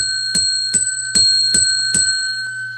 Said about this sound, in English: when we get 100 thumbs up, we ring the bell 10 times